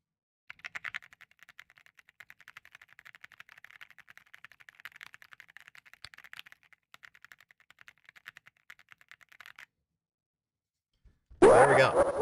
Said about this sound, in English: This is the new keyboard.